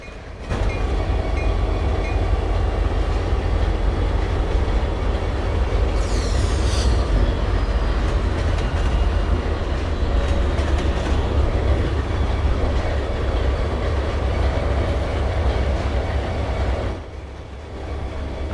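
Old NS Heritage diesel locomotives run on track in the Trainz railroad simulator with a steady rumbling roll, rhythmic wheel clatter and a brief wheel squeal, loud and continuous, with no voices over it.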